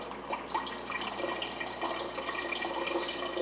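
Water drains out of a water filter in a steady, hissing and splashing flow that runs continuously at moderate loudness and close range.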